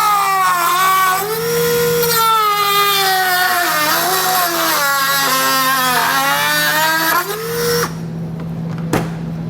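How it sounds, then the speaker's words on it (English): An abrasive cutoff wheel cuts away the bumper support on a 2015 Ford Taurus, screaming loudly and close with a wavering pitch for about eight seconds before it spins down and stops. "I'm just going to use a cutoff wheel to get all that removed."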